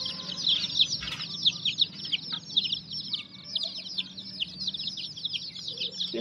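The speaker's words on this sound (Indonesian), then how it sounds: "Lihat tuh ayam-ayamnya pada merubungi." A flock of chickens crowds around while feeding on water spinach, with dense, overlapping clucks and squawks at close range and a busy, continuous chatter.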